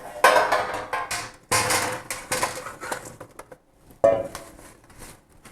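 Pot and metal utensils clinking and scraping while chicken is placed into a casserole, irregular sharp knocks and rattles at close range, some loud, separated by short quieter gaps.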